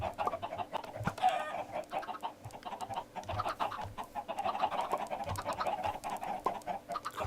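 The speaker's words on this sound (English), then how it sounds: "Crazy chickens." Chickens in the Minecraft video game cluck and squawk repeatedly, a busy overlapping flock at moderate loudness heard alone without talk.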